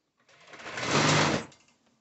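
A serger sewing machine runs a short burst across dancewear fabric, a close, fast whirring buzz that swells in and fades out within about a second and a half.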